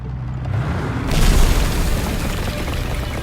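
A grenade detonates inside a tank, giving one deep, heavy boom that swells and then rumbles on as a loud, close, reverberant roar, with no voices.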